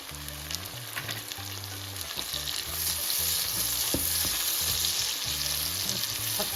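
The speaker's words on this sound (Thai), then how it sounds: "เราก็จะเอาเบคอนลงนะคะทุกท่าน นี่เบคอนนะคะทุกท่าน เอาลงหมดเลยนะ" Bacon fries in a pan with shallots, giving a steady, close, crackling sizzle with occasional sharper pops that swells slightly louder midway, while low humming tones run faintly underneath.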